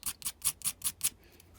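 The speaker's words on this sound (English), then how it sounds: "you just sand until you can't see any raised area" Sandpaper is rubbed across a raised nib on a resin Emperor Dalek model kit in six quick, evenly spaced scratchy strokes, close and clear, followed by quiet.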